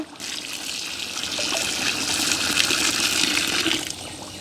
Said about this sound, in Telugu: బిర్యానీలకు సరిపడా నీళ్ళు అయితే పోసుకుందాం